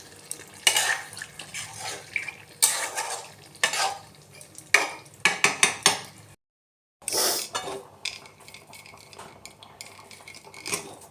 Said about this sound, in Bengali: সামান্য একটু তেল দিয়ে রেস্টে রাখা ধোকা মিক্সটা একটু নেড়ে নিলাম